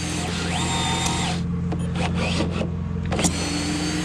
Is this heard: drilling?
yes